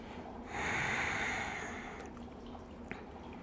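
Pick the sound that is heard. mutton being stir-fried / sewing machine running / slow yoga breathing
slow yoga breathing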